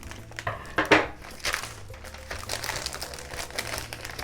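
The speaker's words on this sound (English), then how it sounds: "When you can't find where to open it, just use some" Close-up crinkling and rustling of packaging with a few sharp snips as scissors cut into it, no one speaking.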